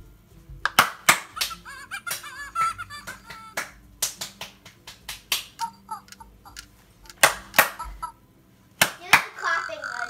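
Hands clap near a WowWee Fingerlings interactive baby monkey toy in sharp, close bursts, some in quick pairs and others spaced irregularly, with voices talking between them.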